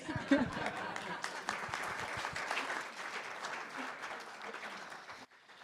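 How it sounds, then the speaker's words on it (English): Audience applause fills a dinner event hall, dense steady clapping from a large crowd that holds for several seconds before cutting off abruptly near the end. "Darrell Griffith, one more round of applause for him, please."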